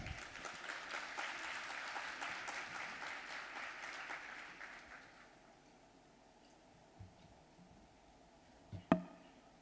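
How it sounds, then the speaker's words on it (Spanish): An audience at a health-sector recycling conference gives the speaker strong applause that fills the first half and then fades out, leaving a quiet room with a sharp knock near the end. "Un fuerte aplauso, por favor."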